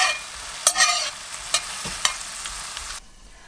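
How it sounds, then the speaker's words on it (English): Zucchini stirred in a pan after a splash of soy sauce alternative, with a soft frying hiss and several sharp scrapes of a utensil close by, then abrupt quiet near the end. "And I'm just going to add a little bit to the zucchini for some flavor. Mix that up again."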